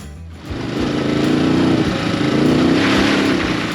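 A Ducati DesertX adventure motorcycle rides mountain terrain in the Colorado Rockies, its engine rising from a low idle into a loud, close, throbbing drone that holds steady with rough pulsing under wind.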